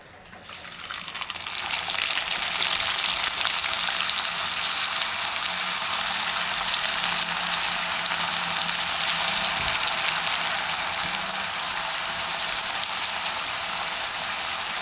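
Kuzhalappam, a Malabar rolled snack, frying in hot oil: a steady, loud, dense sizzle that holds evenly from start to end with no voices.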